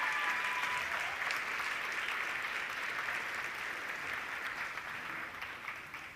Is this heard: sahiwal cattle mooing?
no